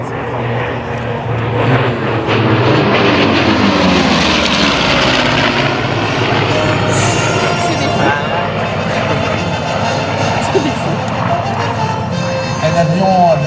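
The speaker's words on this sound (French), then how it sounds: "Un avion avec deux moteurs, l'avion du Petit Prince." A P-38 Lightning twin-engine propeller airplane drones steadily and loudly at the La Ferté-Alais airshow, a continuous throbbing roar that holds near and constant.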